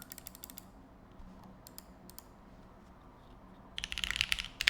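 Bursts of quick computer mouse clicking at keyboard level, small clusters of sharp ticks with pauses between, then a denser, louder flurry of clicks near the end.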